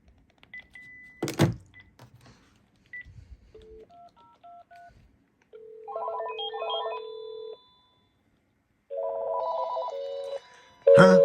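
A Panasonic KX-TG9344 cordless phone rings electronically in short tonal bursts, with beeps and a sharp click earlier, then a louder tone at the end; no talking.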